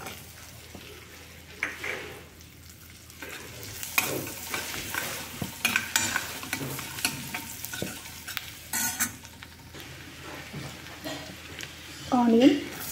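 Cumin, garlic and green chili frying in butter in a pan, a soft sizzle under stirring and scraping, with brief clinks of a utensil against the pot near the end.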